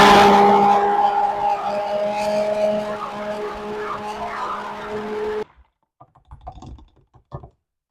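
A blender purees canned ingredients for a Virginia rocked oysters topping, giving a loud, steady motor whine with strong tonal hum for about five seconds before cutting off abruptly, followed by a few faint clunks and rattles.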